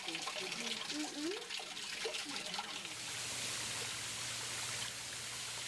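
Water pours steadily over Little Clifty Falls in Clifty Falls State Park near Madison, Indiana, a continuous rushing wash with a voice audible over the first half.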